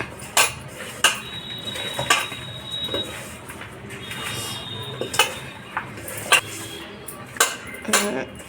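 Chicken dum biryani mixture gets stirred in a pot, with a spoon knocking and scraping against the metal in irregular clanks over a soft background hiss, each clatter close and distinct.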